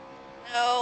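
Car engine in BeamNG multiplayer revs up, a harmonic engine tone jumping sharply louder halfway through and holding steady, close and alone.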